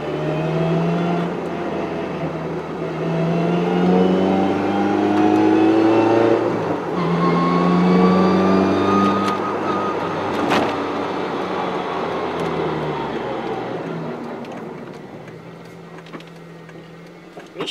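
A Toyota MR-S fitted with a close-ratio 5-speed manual transmission and high-lift cams drives along, its engine droning and rising through the revs in a steady interior hum, alone without talk.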